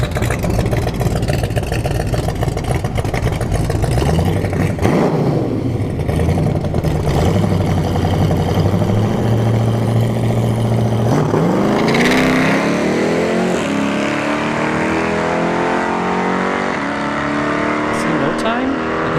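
First-generation Pontiac Firebird drag car at a dragstrip test-and-tune, its engine droning loudly then revving up hard in rising gear sweeps as it launches and pulls away, with a person talking over it.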